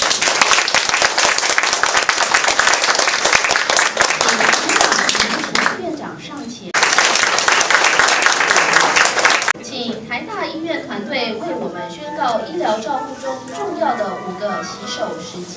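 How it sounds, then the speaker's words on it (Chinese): Warm audience applause rises to greet the National Taiwan University Hospital team, award winners for hand hygiene excellence, with dense clapping filling the first ten seconds, one brief dip, then fading into scattered crowd murmur and voices. "请以热烈的掌声欢迎他"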